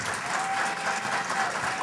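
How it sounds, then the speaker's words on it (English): Brief audience applause at a candidate forum in Coral Springs, a short burst of even, dense clapping from a seated crowd, moderately loud with no talk over it. "You can applaud."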